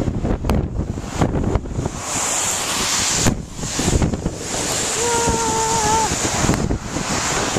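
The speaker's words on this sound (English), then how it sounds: "Windy as fuck." Strong wind roars and buffets the microphone outdoors during a Chicago blizzard, loud and continuous with gusty surges, and people talk briefly under it.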